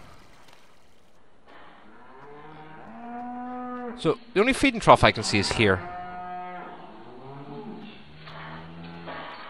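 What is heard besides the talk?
beef cows mooing in farming video game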